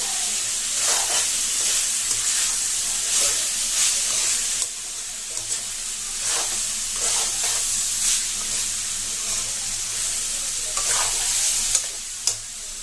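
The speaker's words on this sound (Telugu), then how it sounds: "అల్లం వెల్లుల్లి పేస్ట్ బాగా ఫ్రై అవ్వాలి" Ginger garlic paste fries in a pan for chicken keema curry, a bright steady sizzle close by with repeated stirring scrapes and occasional sharper spatters, and no talking.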